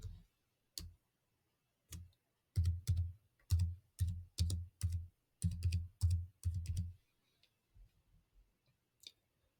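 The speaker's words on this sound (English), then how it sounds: "So go to Extensions and type in" A computer keyboard typing a short extension name in a search field: sparse single keystrokes at first, then a fast run of crisp, close clicks that stops, followed by a few faint taps.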